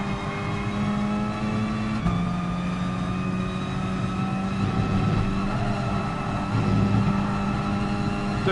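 A car engine in a racing video game drones steadily at high revs, with its pitch stepping up and down as gears shift. The tone is loud and continuous, with no talking over it.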